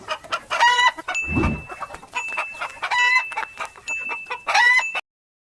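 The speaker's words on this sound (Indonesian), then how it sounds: "Ini binatang ayam." Chickens cluck repeatedly in a busy farmyard, with a rooster crowing among them and a faint high tone running underneath.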